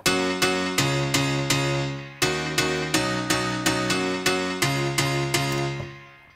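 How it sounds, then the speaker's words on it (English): Layered synth piano chords for a build-up in a dance track, struck in steady repeated hits with plucky layers, each chord decaying before the next, loud and alone with no talk. "that's the main kind of piano sound for the build-up"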